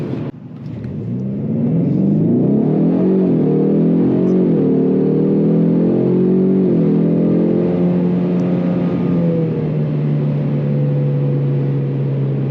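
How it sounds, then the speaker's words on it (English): A 2024 Ford Mustang EcoBoost engine revs high and holds a loud, sustained droning tone that climbs and wavers before settling into a steady, slowly falling hum, heard close with no talk. "Definitely holding the high revs."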